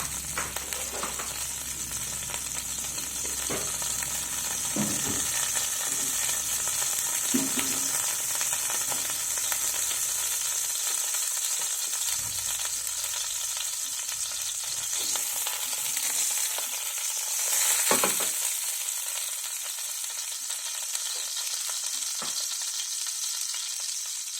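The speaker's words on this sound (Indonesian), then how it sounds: "It's popping quite a bit because I didn't dry it well after I washed it earlier." Washed, still-wet chicken pieces fry in hot oil for spicy Indonesian stir-fried chicken, a constant loud hiss dotted with pops and crackles that thin out partway through, then one louder burst.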